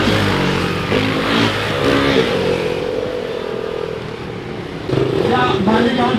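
KTM motorcycles race past at a dirt-track event, engines roaring and revving loudly and continuously while a commentator's voice talks over the noise.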